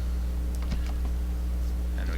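Keys clatter on a computer keyboard as a name is typed, a few quick light taps close by over a steady low electrical hum, with no voice.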